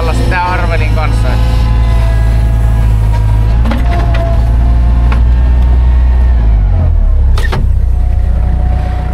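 A hydraulic log splitter's engine runs steadily at low revs, a constant low rumble from start to finish that dips briefly near the end, with people talking over it.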